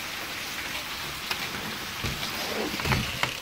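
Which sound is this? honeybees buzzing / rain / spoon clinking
rain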